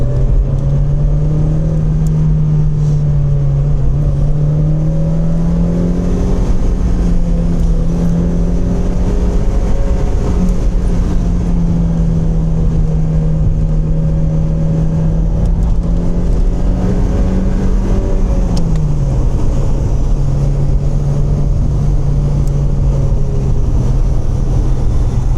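A car engine drones steadily throughout, its pitch rising and falling slightly as it drives, loud and close with no talking.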